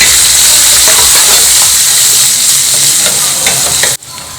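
Chopped onion sautéing in a pan with ginger and curry leaves, a loud close continuous sizzle with stirring that drops off abruptly near the end.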